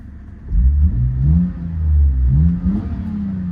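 A Lexus GS300 engine revs up and down through refitted exhaust flanges and pipes, giving a deep, throaty rumble in several rising swells, close and loud with no voices.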